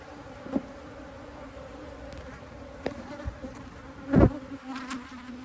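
A steady low buzz of many honey bees drones around an opened hive throughout, with a few sharper bumps and clicks close to the microphone.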